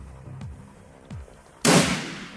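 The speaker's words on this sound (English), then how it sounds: "Shoot her good." Gunfire in the video game Shadowrun Returns: two short reverberant shots about half a second apart, then a louder, sustained burst of noisy blast a moment later, no speech.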